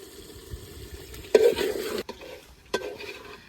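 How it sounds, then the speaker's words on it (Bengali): Chicken sizzles in hot oil in a pot as it is stir-fried for chicken biryani. The frying is close, with a couple of sharp spoon scrapes against the pot over a steady crackle, and no one talks. "মাংসটা খুব ভালোভাবে কষে নিছি"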